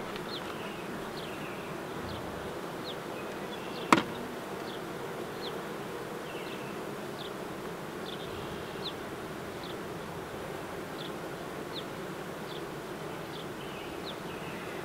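A constant, close drone of many honeybees buzzing around a full hive, with occasional individual passes and a single sharp click partway through.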